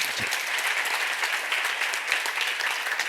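Church congregation applauding steadily during a sermon, a dense, even wash of many hands clapping with no talk over it.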